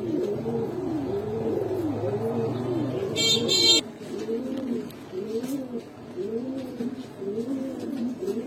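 Kaldom pigeons coo repeatedly in a steady, rhythmic series of soft, close calls, with a brief sharp noise partway through and faint traffic in the background.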